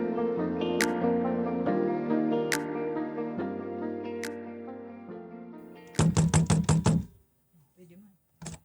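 A quick burst of about six sharp knocks on a door comes after several seconds of soft background music, loud and close, then fades into quiet.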